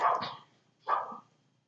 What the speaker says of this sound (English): the doggy's having a bit of a bark